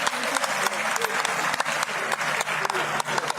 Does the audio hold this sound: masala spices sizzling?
no